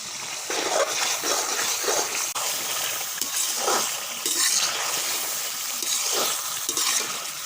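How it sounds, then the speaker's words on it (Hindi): Garlic cooks in a pan for chicken karahi, a loud steady sizzle with rhythmic stirring swishes and scrapes every second or so. "हम लहसुन डालेंगे, थूम, और इसको अच्छी तरह पकाएंगे।"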